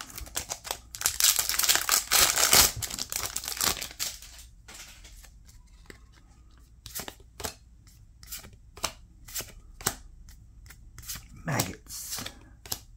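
Fleer Ophidian trading card booster packs from 2003 being torn open, with loud crinkling foil wrappers at first, then sharp card flicks and shuffles in an irregular rhythm, close to the microphone.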